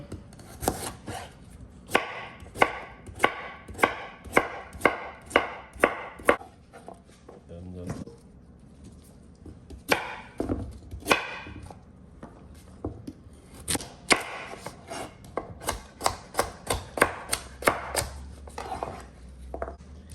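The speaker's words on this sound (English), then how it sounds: "now we're gonna just go cut up the carrots" A knife chops unpeeled carrots on a board for beet juice, with steady rhythmic cuts in two long runs separated by a pause and a few scraping sounds. A person talks at times over the chopping.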